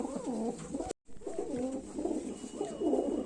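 Young pigeons coo in low, throaty, rolling calls, close and continuous apart from a brief silent cut, with no speech.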